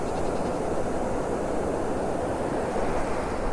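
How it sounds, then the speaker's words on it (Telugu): A mountain stream in Arunachal Pradesh rushes steadily, giving a dense, constant hiss and roar of flowing water with wind mixed in and no voices. "ఇది ఒక థెరపీ అనమాట ఆ సౌండ్ అనేది, వాటర్ ఫ్లో సౌండ్ అనేది."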